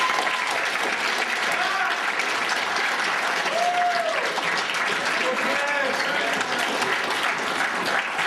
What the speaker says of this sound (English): Can we have a please round of applause for Kristopher?